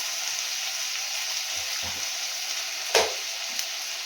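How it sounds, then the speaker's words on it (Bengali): Onion and capsicum fry with garlic and ginger in a pan, a constant bright sizzle under a couple of soft stirring knocks and one sharper scrape. "পেঁয়াজ আর ক্যাপসিকামটাকে আমি এইভাবে ভেজে নিলাম"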